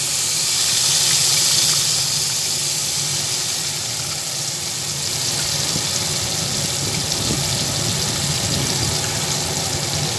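Onion paste hitting hot oil in a pan alongside cardamom, cinnamon and cloves, a loud, continuous sizzle and hiss that swells at first then settles into a steady frying crackle, with no voices.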